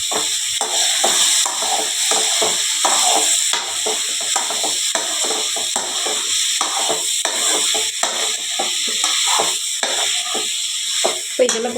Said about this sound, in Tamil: கொஞ்சம் எண்ணெயில் நல்லா வதக்கிக்கலாம்.